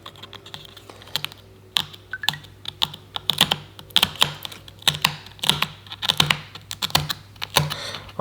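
A blue toothpick picks and scrapes at a dalgona sugar candy, producing sharp, close, irregular clicking taps in quick bursts, alone without speech.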